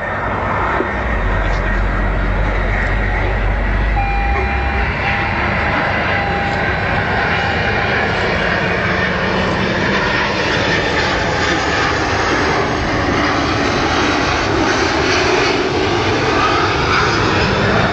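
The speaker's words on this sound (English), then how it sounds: "Impressive to see a large aircraft as this close up and low down." A DHL Boeing 757 jet airliner roars close and low during an air display flypast, making a loud sustained rumble with a shifting whine as it passes.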